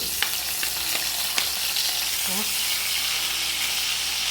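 Steady crackling sizzle of ginger and garlic frying in hot coconut oil, with a few sharp pops and a brief faint voice in the background.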